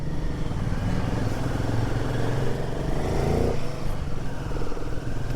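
Motorcycles ride along a road in Spiti, their engines giving a steady, loud rumble throughout with no pause, and a slight shift in the engine note near the end as one rider pulls past.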